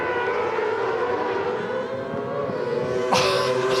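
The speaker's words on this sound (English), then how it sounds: "What amazing sidecar racing this is." British F1 sidecar outfits race at Donington, engines screaming in a sustained high-pitched roar with shifting pitch as machines pass, and a sharper burst near the end.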